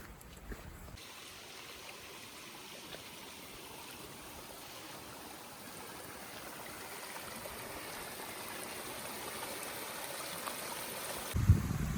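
A waterfall stream on the Appalachian Trail after heavy rain flows as a steady, soft rushing wash that grows slightly louder toward the end.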